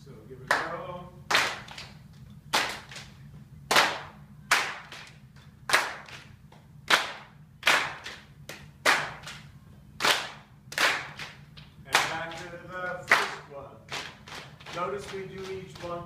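Sharp, loud group handclaps in a steady counted rhythm, sounding as a music teachers' clapping exercise of threes ending in a clap, with a few claps close together and brief voices between some beats.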